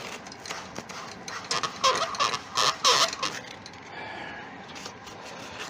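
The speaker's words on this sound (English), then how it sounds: "So just a quick rub with a piece of sandpaper" Sandpaper rubs the finish off a turned wooden piece in a few quick, scratchy strokes that cluster in the middle and then fade to a softer, quiet rub.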